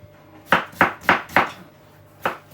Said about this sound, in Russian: Теперь сейчас нарежу лучок.